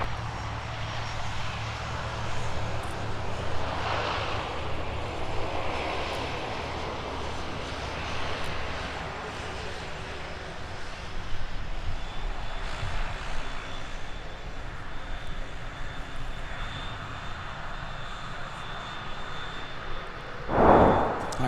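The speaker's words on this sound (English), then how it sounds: "let's take a look at that close taxi from the FedEx ATR" FedEx ATR turboprop taxiing at Minneapolis–St. Paul airport, a steady distant propeller and engine drone running throughout at moderate level, swelling slightly at times, with a short sharp burst near the end.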